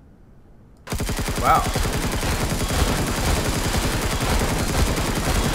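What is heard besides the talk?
gunfire in the video game Empyrion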